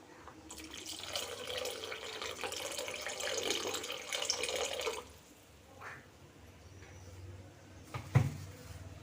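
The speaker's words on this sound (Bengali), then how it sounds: "এতে আমরা অল্প একটু জল অ্যাড করব।" A little water poured into a pot of lau dal (bottle gourd lentil curry) on the stove, a steady running-water pour for about five seconds, followed by quieter kitchen handling and a brief clunk near the end.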